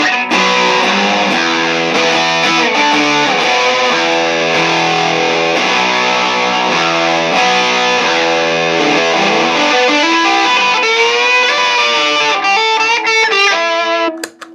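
Vintage Pro Co Rat distortion pedal with the distortion knob at midnight, driving an electric guitar: a steady, loud, saturated stream of sustained chords and notes running unbroken for the whole passage, cutting off abruptly at the end.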